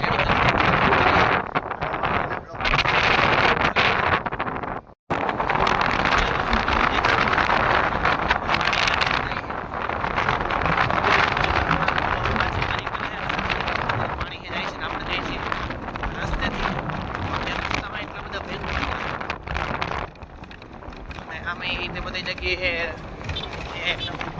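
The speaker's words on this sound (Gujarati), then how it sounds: "અત્યારે પવન બહુ વાઈ છે જોરદાર" Strong wind roars and buffets the microphone in a steady, loud rush, with a brief dropout and some talking mixed underneath.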